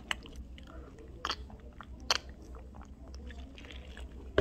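Chewing a sandwich filled with cheese, cabbage, ham and meat, heard up close as soft crunches and wet mouth sounds with a few sharper bites over a low background hum.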